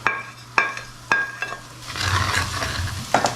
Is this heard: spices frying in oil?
yes